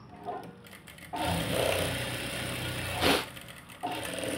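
A sewing machine stitches a blouse in short bursts of whirring, with a louder, steadier run in the middle and brief pauses between, close by with no talking.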